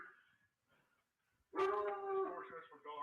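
A dog barks and whimpers in a short, loud burst after a near-silent pause, its yelping cry sustained for over a second with a later yip, heard during a police entry into a house.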